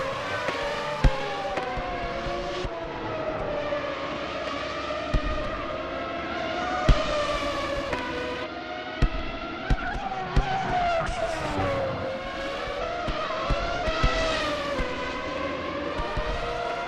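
Formula 1 race cars lapping Vallelunga in a racing video game: a loud, continuous high engine whine rising and falling through gear changes, with brief tire squeals and sharp clicks.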